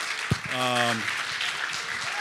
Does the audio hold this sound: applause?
yes